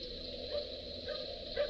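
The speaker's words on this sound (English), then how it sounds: "Oh, it's a dog. Little dog barking." A little dog barks faintly in the distance, giving a few short yips spaced apart against a steady background hum.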